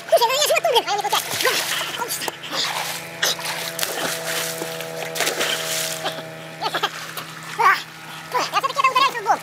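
A person belly-flops into water, with sharp splashes scattered through the clip under children's and adults' chatter close by, outdoors on the water.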